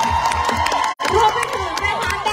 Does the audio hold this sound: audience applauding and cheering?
yes